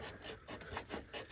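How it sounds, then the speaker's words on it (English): Close, quiet rubbing and scraping strokes cleaning the flange of a small 6-inch tubing during Toyota 4Runner maintenance, repeating in an uneven back-and-forth rhythm of about six passes, with no talking. "Just doing a little bit of cleaning on the flange of the little 6-inch tubing."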